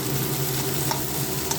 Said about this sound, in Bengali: সব মিক্স করে পুরটা বানাতে হবে ভালোভাবে।